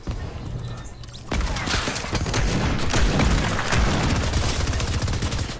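Fortnite infantry rifle fire in a gun game match: a quieter stretch, then a sudden burst of rapid rifle shots that keeps going as a loud, dense volley mixed with other battle noise.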